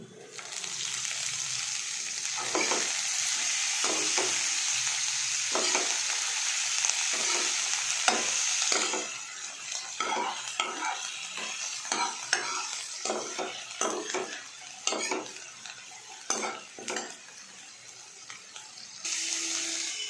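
Chopped coriander leaves sizzling in a pan for chutney, stirred with a utensil in repeated scraping strokes over a continuous hiss that is loud at first and then thins out to a quieter, intermittent frying.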